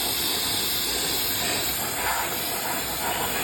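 Brake cleaner sprays from an aerosol can onto the drum brake assembly of a 1994 Toyota 4Runner, giving a steady, loud, continuous hiss that runs unbroken the whole time with no talk.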